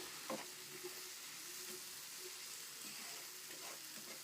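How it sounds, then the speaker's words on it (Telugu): Fenugreek leaves stirred into a tomato curry frying in a pan give a steady, quiet sizzle with faint scraping stir strokes, heard alone without talk. "ఇప్పుడు మెంతాకు వేసుకున్నా. కలుపుతున్నా అండి ఒకసారి."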